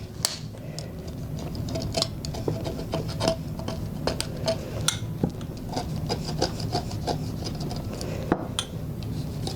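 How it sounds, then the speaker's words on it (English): A tool rasps and scratches steadily as hardened resin is scraped off the edges of a wine glass, making a continuous close rubbing texture with small irregular ticks and clicks throughout. "scrape off the edges of the resin, wherever that is"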